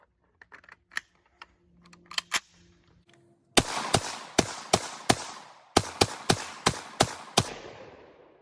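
An SKS rifle fires a rapid string of about eleven loud, sharp shots from a 30-round magazine, preceded by quieter clicks and handling of the gun.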